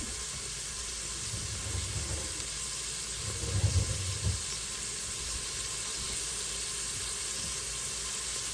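Onions frying in a hot pan for spaghetti, a steady soft sizzle with a couple of louder bursts as they are moved around the hot spot, no talking.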